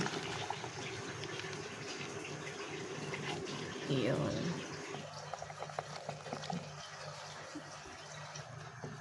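Water with tamarind bubbles and simmers steadily in a pot, with a brief louder burst of activity midway and a short spoken word nearby.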